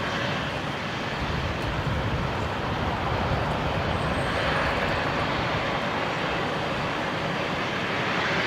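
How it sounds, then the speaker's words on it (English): Velocity Boeing 737-800 airliner lining up on runway 19 left at Brisbane Airport, a steady, loud broadband engine roar and rumble filling the whole stretch without a break, with no talk. "Velocity 960, a 737-800 off to Sydney, going off of 19 left, just lining up now"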